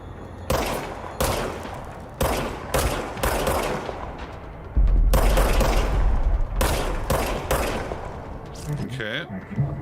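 Bursts of gunfire from a service weapon in a video game, several loud volleys separated by short gaps, with heavy booms layered in midway and a voice talking between the shots.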